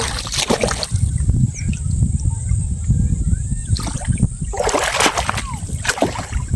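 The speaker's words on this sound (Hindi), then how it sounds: "अभी पानी उड़ा था, कैमरा को लग गया है" Water splashes and spatters against a camera beside a flooded field, with bursts of wet splatter and sloshing between steadier watery noise, close and fairly loud.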